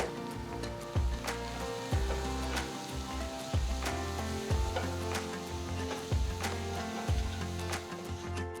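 Onions and ground masala powder sizzling in a pan for a cauliflower pepper fry, a steady crackling hiss broken at regular intervals by the scrape and clunk of a spoon stirring the mixture.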